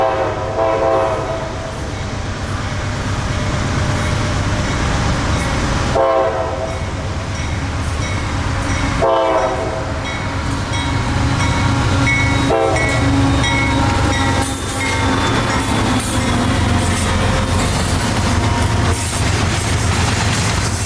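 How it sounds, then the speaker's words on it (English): A Tampa Commerce freight train passes loud and close, its horn blaring in long repeated blasts over a continuous heavy rumble and rattle of rail cars. ".441's the Tampa Commerce train"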